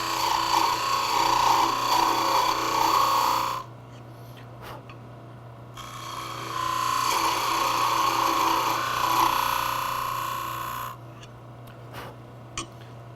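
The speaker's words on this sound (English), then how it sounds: "And now I'll just use the tool back and forth with a couple of light passes to smooth everything up." A wood lathe turns the tenon on a Christmas ornament, with a steady scraping hiss of the tool cutting wood in two long passes split by a short pause, loud and close, and no voice.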